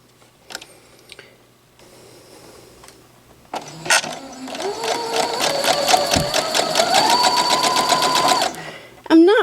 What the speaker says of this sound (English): I'm going to sew on the left side, and I'm going to turn it around and sew on the right side